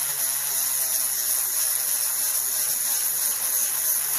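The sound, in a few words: Dremel polishing dinosaur gembone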